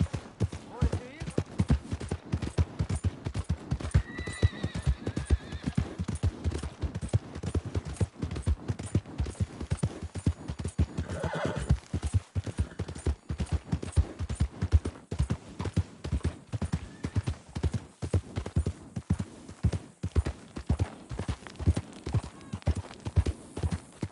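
Horse galloping in Red Dead Redemption 2, a steady rapid clip-clop of hooves carrying on throughout, with brief bursts of game voices over the hoofbeats.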